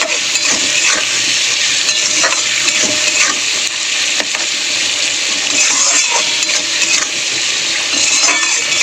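Tomatoes and onions frying in hot oil, a continuous loud sizzle with scattered clicks and scrapes of stirring throughout, no voices.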